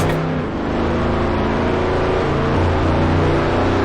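A heavy truck engine in the Truck & Logistics Simulator video game gives a loud, steady, rumbling drone with low harmonic hum and slight revving swells throughout, with no talking.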